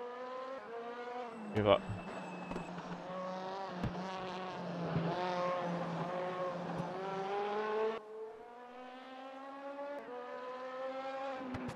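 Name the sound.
race car engine revving in a racing video game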